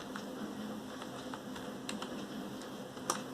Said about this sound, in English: Now you'll have to type